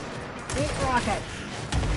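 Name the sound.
rocket fire in the video game Control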